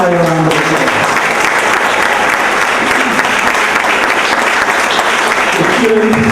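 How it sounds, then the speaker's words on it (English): Loud, dense audience applause fills a Rotary-sponsored youth symposium, sustained and close for several seconds, with a voice briefly speaking at the start and end. "let's give them another round of applause"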